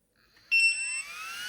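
An electronic buzzer sounds a steady, piercing tone, starting abruptly after a faint lead-in and holding as a loud, continuous beep.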